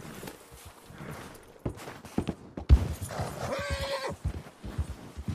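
Horse in the video game Red Dead Online neighs clearly amid clip-clop hooves and footstep sounds, the whinny rising near the middle, close and moderately loud.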